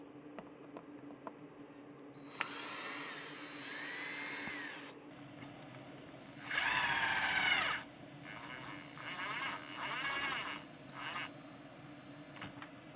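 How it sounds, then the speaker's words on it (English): A power drill takes out the screws on a window panel. It comes in several separate whirring bursts of a few seconds each, fairly close, with quiet pauses between them and no talking. "I'm going to be disassembling this panel, these screws top and bottom and along here to try to get in there."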